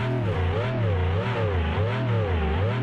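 A modded car engine in the BeamNG video game drones steadily while climbing an asphalt hill, its pitch wavering up and down in a rhythmic, loud revving tone with no talk.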